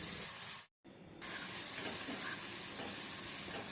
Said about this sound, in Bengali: যতক্ষণ না ভাজা ভাজা গন্ধ বেরোবে ততক্ষণ আমাকে এটা ভাজতে হবে।